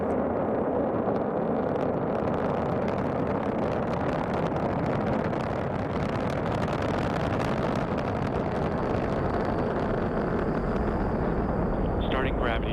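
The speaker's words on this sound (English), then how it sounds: "And launch of the SpaceX Falcon 9 rocket as NASA turns to the private sector to resupply the International Space Station." A SpaceX Falcon 9 rocket launches on a NASA resupply mission to the International Space Station, with a dense, continuous roar that stays loud and steady throughout.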